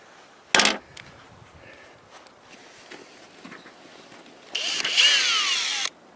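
A power drill fitted with a stepped Christmas-tree bit bores through metal for a homemade three-point hitch plow adapter, giving a loud steady whine of about a second and a half near the end, after an earlier sharp burst and some footsteps and handling noise.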